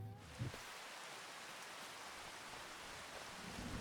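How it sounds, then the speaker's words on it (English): A steady downpour of rain in Farming Simulator 25 hisses evenly and fairly faintly throughout, with a brief low thump near the start and no voices. "That's hard work in the rain"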